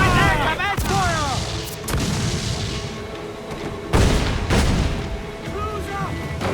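Ship cannons firing in Assassin's Creed Black Flag: several loud sharp booms spaced a few seconds apart, with shouted crew voices and swooping calls between the blasts.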